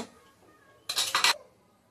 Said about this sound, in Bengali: সবজিটা ভালো করে ম্যাশ করে নেব